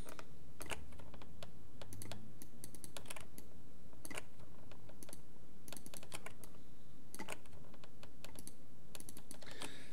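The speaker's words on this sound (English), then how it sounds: "if I hit 4 on my keyboard" Quiet, steady typing on a computer keyboard while working in Maya 2018, keys tapped in irregular clusters over a low background hiss, with no voices.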